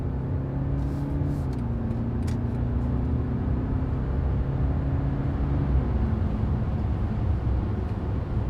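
A BMW 523d with a mild-hybrid diesel engine and eight-speed automatic, driven in sport mode, heard from inside as a steady low engine drone and road rumble with a subtle pitch shift as it changes gear.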